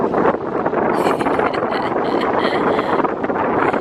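Strong wind buffeting outdoors on a fishing outing, a loud, continuous rushing roar with gusty surges battering the microphone.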